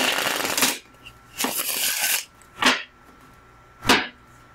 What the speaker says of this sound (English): I'm actually giving this a shuffle